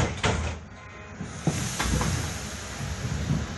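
Doors on a Budapest M3 metro train slide shut with a couple of soft thuds and a hiss against a steady background rumble of the train.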